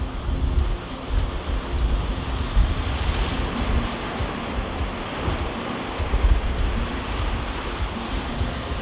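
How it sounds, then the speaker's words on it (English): Powerful ocean waves surging against boulders on the rocky coastline at Albany, Western Australia, a constant broad roar of surf with low rumbling swells and wind buffeting the microphone, no voices. "the waves are so powerful"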